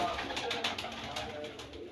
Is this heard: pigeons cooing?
yes